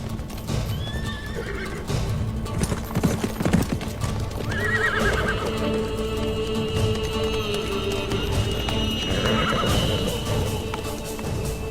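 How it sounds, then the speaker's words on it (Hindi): Horses clip-clop with fast, uneven hoofbeats and breathy snorts, and a couple of high neighs ring out along the way, close and loud over outdoor background. "ये घोड़ा तो शहजादे अलाउद्दीन का है"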